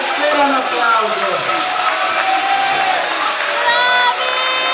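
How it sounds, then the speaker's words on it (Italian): A festive outdoor crowd at the Palio San Giacomo neighbourhood gathering for Rione Boera cheers and whoops loudly and steadily throughout, with mixed voices and shouts forming a dense wall of noise. "Aspetta un applauso."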